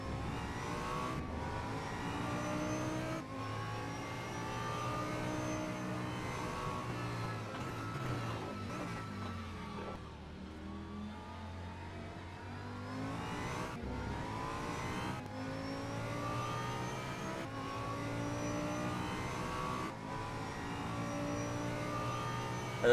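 A 5.2 liter Volkswagen Group V10 races in a driving video game at Suzuka, with a sustained high-revving engine note climbing through gear changes, easing briefly mid-way before surging back up.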